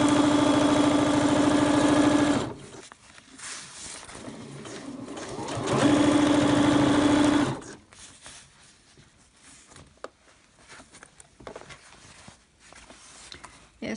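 A sewing machine stitching across a folded seam allowance on a softshell jacket runs in two bursts of rapid, even motor-driven stitching, each a few seconds long, separated and followed by quieter handling rustles and clicks.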